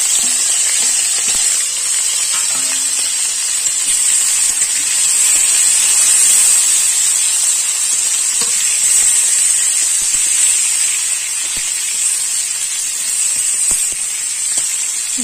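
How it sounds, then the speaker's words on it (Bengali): Jel fish and koi fish frying in well-heated oil in a kadai, a continuous bright hiss and sizzle, loud and close, steady for the whole stretch. "জেল মাছ কই মাছ ভেজে নেব।"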